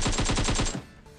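Rapid burst of automatic gunfire in the mobile battle-royale game PUBG Mobile on the Miramar desert map, loud and close with about seven evenly spaced shots, then cutting off into a quiet tail.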